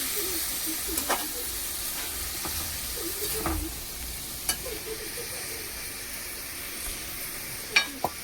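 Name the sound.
fish curry simmering after water added to pan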